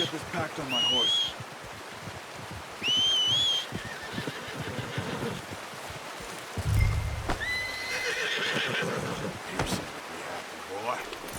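In Red Dead Redemption 2, a horse whinnies twice in clear high bursts, followed by snorts, hoof clops and a third neigh, with speech and outdoor ambience in the background.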